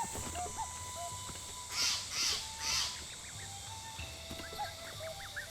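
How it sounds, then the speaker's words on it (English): A jungle bird calling in a Zelda video game, three loud raspy caw-like calls in quick succession over steady ambient game music and faint chirps, with no talk. "What bird is making that sound? That sounds like a jungle bird."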